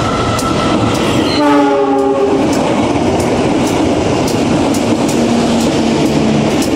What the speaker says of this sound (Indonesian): kereta ini melintas langsung di Gede Bage, bergerak menuju ke Pasar Senen dari Garut